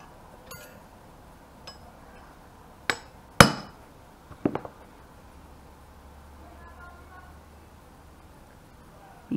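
Small hammer striking a center punch on the steel of a socket and combination wrench, a few sharp metallic clinks, one loud ringing hit followed by a quick double tap, close up over faint room noise.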